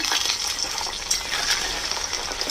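Potatoes frying in a pan on a home stove, a steady broadband sizzle with scattered clinks and crackles, close and continuous with no talking.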